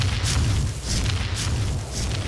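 Rocket launcher explosions in the Ark Mobile video game, loud deep booms in quick repeated succession, each a heavy low thud with a short burst of hiss on top.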